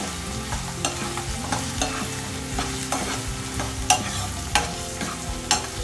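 Onions fry in a pan for quail curry, a steady close sizzle broken by repeated sharp scrapes and clinks of stirring, with no talk.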